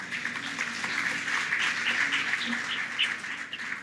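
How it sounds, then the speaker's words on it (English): A conference audience at a tech week session applauds the panel chair, a short burst of close, lively clapping from a modest crowd that swells slightly and holds without speech. "Applause for Tom as well, please."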